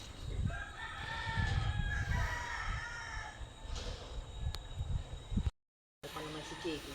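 Chickens and a rooster in a rural vegetable garden, with the rooster crowing and hens clucking at close range, joined by a person talking nearby.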